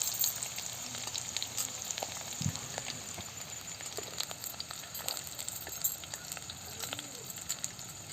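Small shallots frying in hot oil for chicken chukka crackle faintly with scattered pops and a low, continuous hiss, heard from a distance and at low volume.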